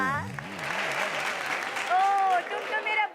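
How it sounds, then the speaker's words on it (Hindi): Audience applause at a live Hindi comedy show, a broad wash of clapping running through most of the moment, mixed with voices and drawn-out vocal tones over it. "इनके लिए जोरदार तालियां।"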